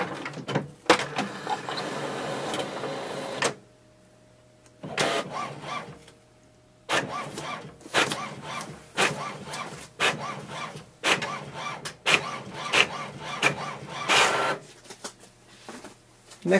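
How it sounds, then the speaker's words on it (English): An HP OfficeJet Pro 9014 inkjet printer prints a document with bursts of mechanical whirring and clacking feed motion, broken by short pauses, close and moderately loud. "Click on the print icon"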